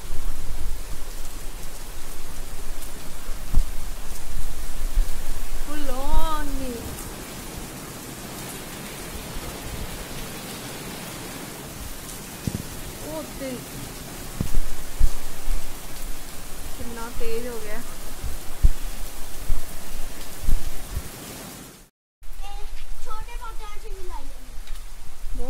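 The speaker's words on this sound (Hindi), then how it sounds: "फुल स्पीड ते हो गई हुण बारिश, बहुत तेज हो गई है" Heavy rain pours down outdoors near guava trees in a dense, continuous hiss, swelling and easing in places, with someone talking over it at intervals and a brief dropout near the end.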